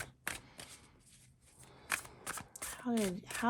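Tarot cards shuffled and drawn during a reading, with several short crisp card snaps and slides spread through the moment while a person speaks in between.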